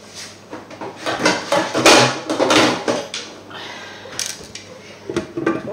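A lid goes onto a cooking pot of rabbit chasseur with potatoes, giving close metallic clattering and scraping clinks in a busy cluster, then a few lighter knocks as it settles.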